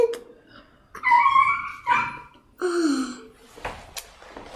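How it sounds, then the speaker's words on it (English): A dog gives a few short yelping, whimpering vocal bursts with quiet gaps between them, heard nearby in a quiet room. "there's a dog called Ruby"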